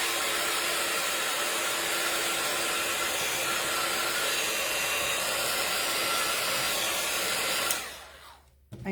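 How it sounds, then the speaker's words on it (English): Heat tool drying freshly stamped paper flowers for cardmaking, a steady loud whirring blast of hot air that runs unbroken for nearly eight seconds before cutting off. "now I'm going to just heat set them"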